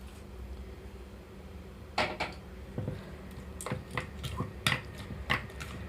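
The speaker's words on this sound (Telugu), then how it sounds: "ఇప్పుడు ఇందులోకి తాలింపు కలిపేస్తున్నాను" Tempering being stirred into a bottle gourd yogurt chutney, a scatter of light clinks and taps of a spoon against a bowl, close and fairly quiet, with no talk.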